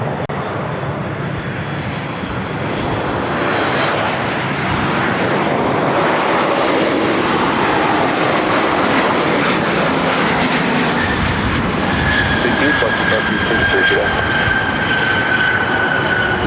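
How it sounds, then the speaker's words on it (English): An Air Canada Boeing 737 MAX 8 arriving at LAX from Vancouver, heard as a loud, steady jet roar that persists throughout, with a thin rising engine whine emerging near the end; no voices. "This is Air Canada 554 coming in from Vancouver on a MAX 8"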